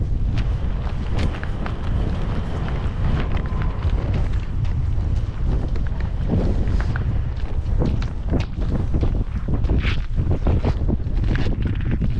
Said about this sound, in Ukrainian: Вітер роздувся жесть просто.